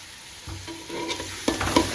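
Cumin seeds stirred in hot oil in a pan, a steady close sizzle with scraping strokes that grow louder and sharper toward the end.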